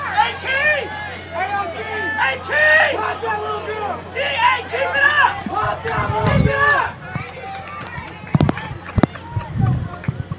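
Spectators at a college soccer match at the Prairie View A&M Sports Complex, a lively crowd murmur beneath a commentator's talk, with sharp thuds and bursts of noise toward the end.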